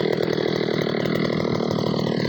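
A 3 hp petrol mini weeder engine runs steadily at high revs in a cotton field, a loud buzzing drone that holds constant throughout.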